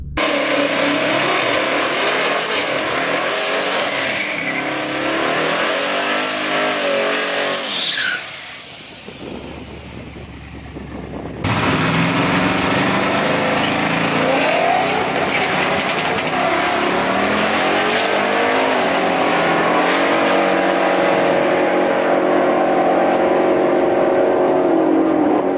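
A race car engine with a broken drive shaft roars loudly on a track as it comes up on boost, holding a harsh, sustained howl that drops away briefly near the middle before surging back to full, steady power.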